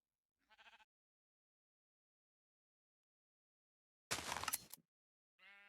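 A sheep bleats in the Minecraft video game, shorn of its wool by a dispenser with shears. Two short, clear bleats sound alone, separated by a brief crisp shearing burst, in near-silence.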